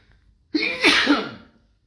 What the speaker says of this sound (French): L'éternuement a coïncidé avec votre connexion ce matin.